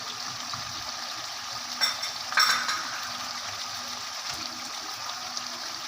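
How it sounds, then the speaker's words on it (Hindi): Fish pieces dropped one at a time into a yogurt masala for a fish curry, giving a steady close sizzle and bubbling with a couple of brief louder splutters as the pieces go in. "तो अब इसमें मछली डालूंगी"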